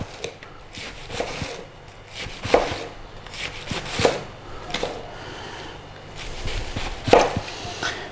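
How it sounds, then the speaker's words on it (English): A knife chops cabbage into thin slices on a board, a steady series of crisp close cuts arriving in irregular bursts with short pauses between, no talking. "So we're getting these lovely, lovely thin slices of cabbage."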